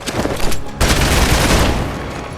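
Dense rapid gunfire in Marvel's Midnight Suns, a loud sustained volley of overlapping shots with a brief gap before the barrage resumes and slowly trails off.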